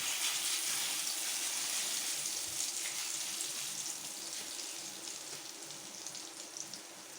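Egg mixture for an omelette poured bit by bit into hot oil, giving a steady close hiss and sizzle that fades slightly toward the end, with no talking.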